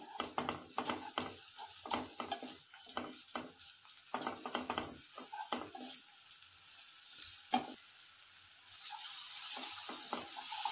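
Oyster mushrooms and onion frying in oil over a low flame, giving a soft sizzle broken by a string of sharp clicks and scrapes from stirring that thin out toward the end.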